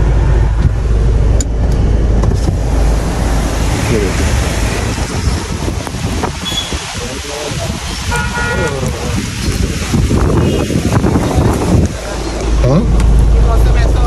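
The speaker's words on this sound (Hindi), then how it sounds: "ये हो क्या रहा है भाई, इतनी बारिश, इतनी आंधी।" Inside a car during a storm, heavy rain and strong wind make a loud, unbroken roar and rush, with gusts buffeting the microphone while someone speaks briefly over it.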